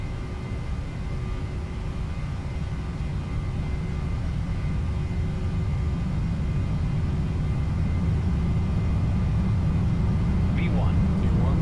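Airliner engines in a flight simulator spool up to takeoff power as a steady, loud low rumble and whine that builds slightly over the run, with no talk.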